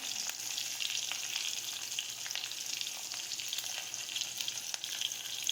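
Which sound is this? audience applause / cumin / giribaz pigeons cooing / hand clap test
cumin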